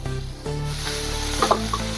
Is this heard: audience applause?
no